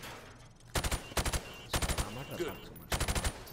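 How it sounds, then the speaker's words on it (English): Four short bursts of automatic gunfire in Modern Warfare Remastered, rounds fired through plywood at targets, each burst a tight cluster of loud sharp shots, with a brief spoken word between them. "I want you to shoot the targets through the wood."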